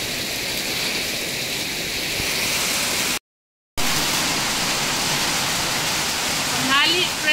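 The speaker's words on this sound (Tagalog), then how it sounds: "Thank you Lord sa ulan." Heavy rain pours down outside near fields of vegetables and rice, a dense, steady hiss close by that drops out for a moment before resuming just as strong.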